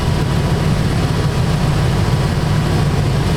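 A Chevy 2500HD pickup engine idles while running super rich, a loud, steady, low rumble that holds one even tone throughout with no revving.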